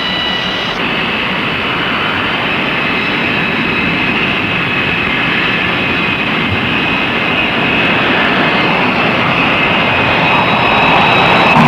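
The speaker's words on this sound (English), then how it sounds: "Standing start, 20 tons of aircraft reach flying speed in 2 seconds flat." Jet aircraft roaring at full power for launch off an aircraft carrier, about 20 tons catapulted to flying speed; a loud, sustained, steady roar fills the whole stretch, building slightly toward the end.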